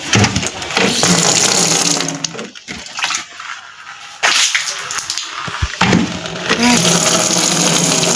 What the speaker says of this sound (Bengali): তো গাইজ বালতি ভরুক